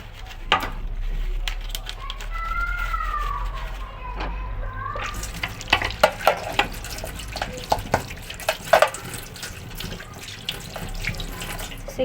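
Fridge parts are washed under running water in a basin: a steady stream splashes from a tap, followed by clattering and knocking of plastic parts being rinsed close by, with some speech mixed in.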